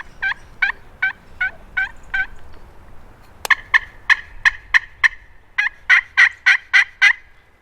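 A Longbranch turkey game call imitates a hen with rhythmic series of sharp yelps, first a slower run, then faster, louder bursts, close and clear with no talking.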